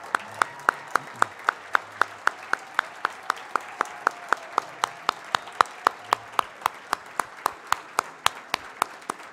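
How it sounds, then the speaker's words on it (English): An audience applauding the Blythedale staff at a spring celebration event, with a few close, loud, regular claps standing out rhythmically over a softer backdrop of clapping for the whole stretch. "let's give them a round of applause"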